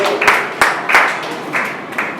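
Audience clapping in a Tamil talk setting, a few scattered bursts of hand claps rising and fading over a steady murmur, moderately loud and close.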